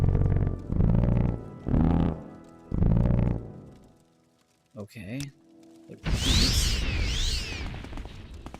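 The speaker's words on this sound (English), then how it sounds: "what's that farting sound?" A low, farting-like rumble in Morrowind's Bloodmoon expansion comes through in a brief muffled burst after a voice speaks, followed by a louder swirling whooshing sound that fills the last seconds.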